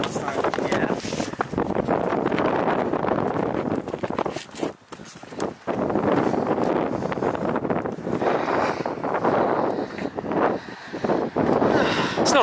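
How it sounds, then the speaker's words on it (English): Steady wind roars across the microphone on Drake's Island in a constant rush, with people talking intermittently beneath the blustery noise. "It's getting windy."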